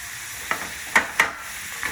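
Soy sauce hitting a hot frying pan for spring roll filling, a soft sizzle punctuated by several sharp scraping stirs.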